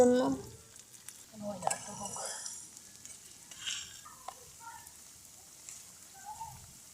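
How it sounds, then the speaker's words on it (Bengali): Lentil fritters (dal bara) fry on low heat with a soft, patchy sizzle and scattered crackles, broken by occasional stirring and utensil sounds. "ডালের বড়া সবসময় চেষ্টা করবেন অল্প জালে ভাজার"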